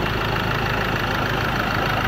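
A 2017 Ford Ranger XLT with a 2.2-litre diesel engine idles close by, a steady, even rumble that holds at a constant level throughout with no voices over it.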